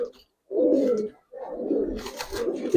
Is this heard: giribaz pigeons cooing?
yes